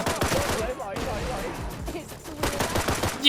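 Rapid bursts of gunfire from the free-to-play shooter-fighting game Black Stigma crackle steadily throughout, dense and loud, with game music and effects layered underneath.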